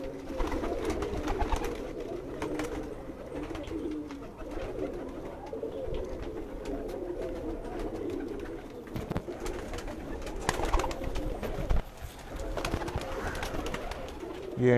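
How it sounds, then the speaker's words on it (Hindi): Kasuri and blue Indian pigeons coo in a rooftop loft, a continuous low throaty cooing from several birds close by, with occasional wing flutters and faint background noise. "यह भी कसूरी कबूतर है।"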